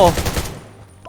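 A single loud gunshot in the survival game Undawn, a sharp close crack followed by a quick fading tail.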